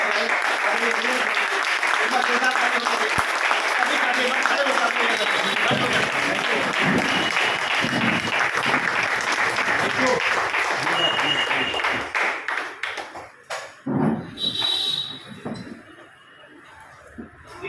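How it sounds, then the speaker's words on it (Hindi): Loud applause from a large audience at a business event welcoming a speaker, dense continuous clapping for about twelve seconds that thins into scattered claps and fades, with voices heard beneath. "आप सभी लोगों की जोरदार तालियों के बीच में मैं इनवाइट करके"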